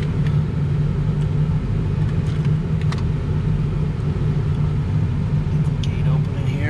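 Engine of a 2004 Ford F250 pickup idling steadily while shifted into reverse in four-wheel-drive low range, a continuous close, low rumble with no revving.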